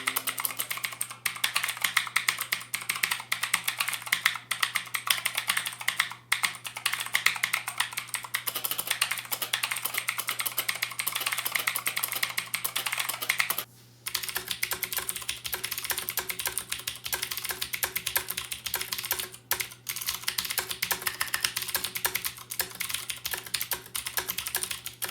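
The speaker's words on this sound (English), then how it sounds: "Here's a sound test so you can compare what the different sound would look like from a Cherry MX Blue switch and the Automu Blue switch." Typing on a budget E-Element RGB mechanical keyboard with Cherry MX Blue and Outemu Blue switches, a continuous clicky rattle of rapid keystrokes close to the microphone with a brief pause midway and a faint steady hum beneath.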